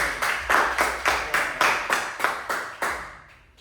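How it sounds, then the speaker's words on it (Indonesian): A steady, evenly spaced series of about nine sharp group claps in a fourth-grade special-needs school class, close and fairly loud, with the final beat fading out and no talk over it. "Tepuk tangan"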